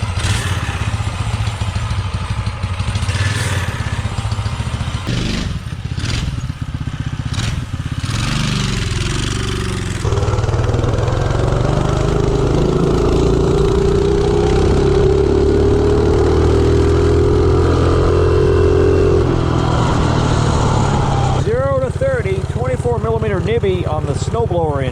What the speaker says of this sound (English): This thing is quiet with that muffler on there.